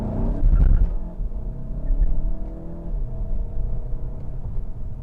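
A VW Golf GTI hot hatch accelerating, heard as a steady low engine rumble and drone from inside the car, with a louder surge at the start and no talk.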